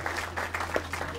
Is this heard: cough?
no